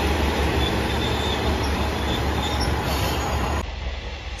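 A JR Shikoku 1000 series diesel railcar on a local service runs past steadily and loudly, wheels rumbling with a high squeal over the top, until the sound cuts to a quieter tail near the end.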